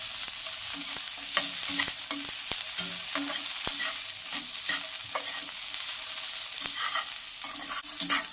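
Eight to ten garlic cloves roasting slowly on low heat in a pan for an egg curry, with a steady close sizzle and repeated scraping stirs throughout, no voices.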